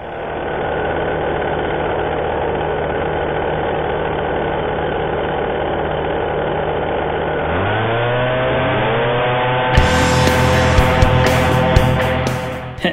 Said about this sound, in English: These blowers are so loud that now Randy and I are communicating by la